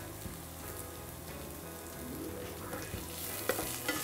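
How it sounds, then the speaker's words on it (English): Green chilies and torn curry leaves fry in hot oil for a potato curry, a dense steady sizzle and crackle with soft stirring scrapes running throughout, close and continuous with no talk. "Just give it a stir."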